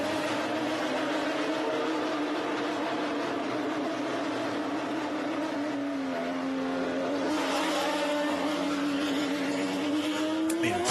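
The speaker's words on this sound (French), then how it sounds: "le très sonore moteur Renault qui s'ébroue et s'élance" Loud, droning Renault Formula One engine running close by as the car pulls out of the garage during practice at the 2021 Hungarian Grand Prix, its pitch dipping and rising as it revs and pulls away, with no voices.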